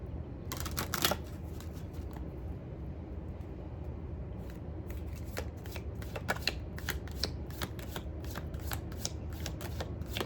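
Tarot cards are shuffled close by in soft bursts of riffling flutter and crisp card snaps, repeated through a quiet room with no voices.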